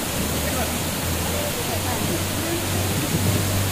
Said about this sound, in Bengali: এই যে ধারা বইছে ঝর্ণা, অপূর্ব অপূর্ব।